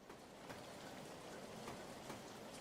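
Light rain falling steadily at a heritage narrow-gauge railway in the British summer, a soft continuous hiss and patter with no speech.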